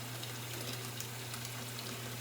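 A kitchen tap runs steadily while tomatoes are prepared for canning, a constant rushing gush of water with a low hum beneath it, even and unbroken, with no talking.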